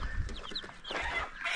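Fat meat chickens crowded in a pen, about ten to fifteen birds, clucking and squawking steadily and close by throughout.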